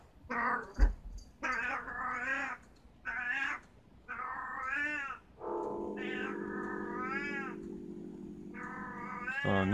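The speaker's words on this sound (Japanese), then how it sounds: "その猫の声なんで気にしないでください。" A cat in heat meows loudly and repeatedly indoors, a string of drawn-out wavering yowls with short gaps between them and one long sustained cry near the end, over a faint background.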